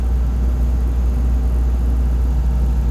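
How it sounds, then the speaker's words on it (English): Truck engine brakes slowing the rig on a highway, a continuous deep droning engine roar with steady low rumble throughout, close and loud. "That is the sound of our engine brakes bringing our speed down a little bit"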